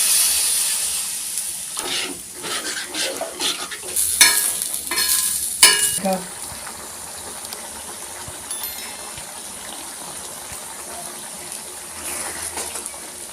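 Tamarind gravy with spices simmering in a pan, a soft bubbling hiss with a louder burst of stirring and sizzle in the middle, then settling to a quiet steady simmer, no talking.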